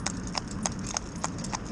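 A traditional cob horse's hooves clip-clopping on a road during training, a steady walking rhythm of crisp, evenly spaced strikes, close and clear over faint background noise.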